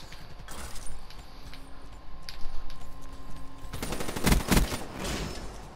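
Automatic gunfire in Call of Duty: Black Ops III multiplayer, with rapid bursts building to a loud, dense volley near the end, and no talk over it.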